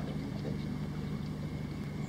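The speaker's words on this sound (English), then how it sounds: "Boats stacked up in the last turn before you hit Lake Vaughan." Boat engines droning steadily on Lake Vaughan, several fishing boats stacked up in a turn, a continuous low hum with wind in the background and no talk.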